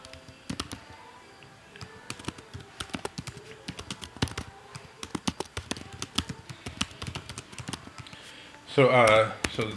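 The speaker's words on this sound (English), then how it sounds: "You can forgive my typing." Rapid, irregular clicking of keys on a computer keyboard, close and fairly crisp, with a short louder burst of another sound near the end.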